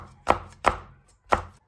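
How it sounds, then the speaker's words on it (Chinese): A knife slicing one green and one red chili pepper into rings on a cutting board: three crisp, close chops with short pauses between them, and no other sound. "青红辣椒各一个，改刀切成圈"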